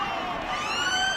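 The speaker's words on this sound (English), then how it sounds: "There's the half-time siren." A half-time siren sounds at a 1996 rugby league match between Warrington and Workington Town, a sustained wavering tone rising slightly over crowd noise, loud and continuous through the short span.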